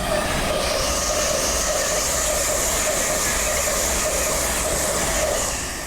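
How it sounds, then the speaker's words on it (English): An LNER Zoomer train passes through Doncaster station on the East Coast Main Line, a loud, continuous rushing rumble of wheels and motors that stays close and steady throughout, with no talking. "it's now coming through as an LNER Zoomer"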